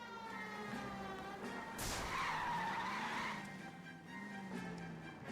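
A car in the video game L.A. Noire skids and spins out, a harsh screech of tires rising over engine drone and a wailing police siren, with no talking.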